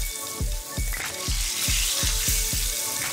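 Beets searing in a hot pan, a loud steady sizzle broken by regular thumping hits roughly every third of a second, close and without talk.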